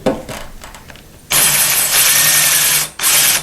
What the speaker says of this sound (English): We're going to use the 3/16 to drill through these holes.